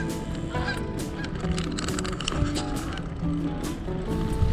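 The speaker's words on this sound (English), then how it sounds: "The sky was full of birds." A large flock of geese honks continuously at the westernmost tip of Groningen, dense overlapping calls filling the air, loud and steady throughout.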